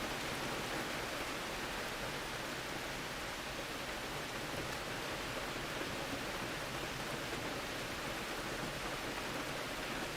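Rain rushes down storefront windows as a steady, dense hiss, unbroken and even throughout with no voices.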